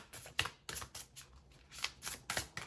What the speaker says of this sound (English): I'm gonna shuffle this deck